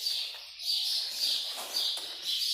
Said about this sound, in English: Apologize for the birds in the background